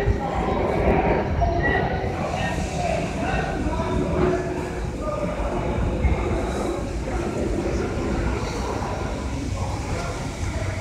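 An R160 subway train on the M line passes with a continuous loud rumble and rattling wheels on track, sustained throughout, while people talk over it nearby.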